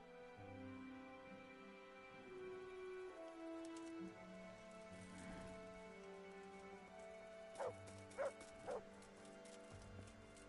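Dog barking in the medieval role-playing game Kingdom Come: Deliverance, three sharp barks close together near the end, over steady rain patter and a low musical drone.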